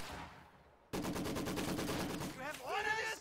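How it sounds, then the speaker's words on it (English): A Maxim machine gun firing in a real-time strategy match, a fast, steady burst of evenly spaced shots lasting over a second, fairly close, followed by shouted in-game voices. "Maxim machine gun engaging"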